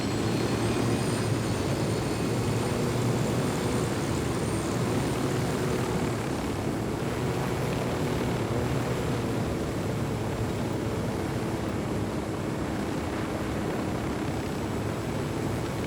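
A steady, droning engine roar of an aircraft flying in the video game Ghost Recon Wildlands, continuous and fairly loud with a broad rumbling hum and no pauses, with no talking.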